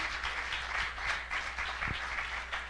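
A church congregation claps and cheers in acclamation of God during a worship service, producing a continuous wash of applause with rhythmic swells, heard at a moderate distance.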